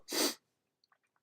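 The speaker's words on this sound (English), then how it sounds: "There's that sneeze" A single sharp, close sneeze bursts out loudly, then a few faint clicks and rustles follow in near silence.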